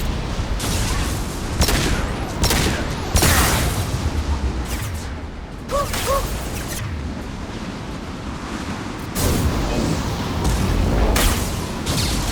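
Heavy weapon fire in Mass Effect 2 at the Shadow Broker's lair: a series of loud, close blasts and roaring bursts repeat every second or two over a constant rushing, wind-like roar.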